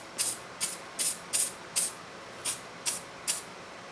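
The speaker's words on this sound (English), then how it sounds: "So I'm going to spray this side" Eight short hissing bursts from a spray can spraying lacquer onto a circuit board, close and evenly spaced, each a quick sharp spritz with quiet pauses between.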